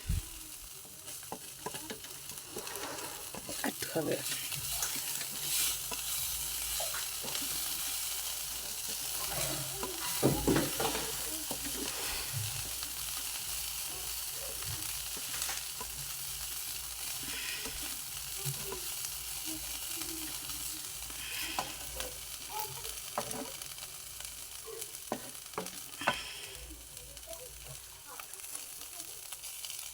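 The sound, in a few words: food frying and stirred in a pan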